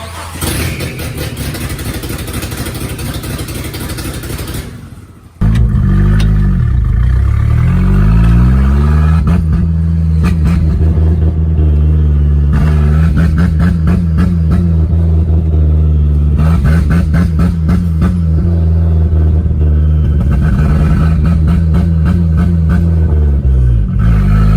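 Nissan Hardbody D21 with a turbo build, its engine running rich: a harsh cranking start, then a loud, steady, rough idle with lumpy pulses, very close and constant for over twenty seconds.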